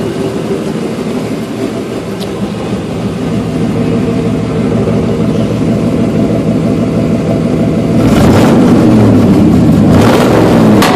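A Factory Five 33 hot rod with a GM Performance Ram Jet 350 V8 idles loudly with a lumpy exhaust burble, then two sharp throttle blips rise and fall near the end, recorded close to the tailpipe.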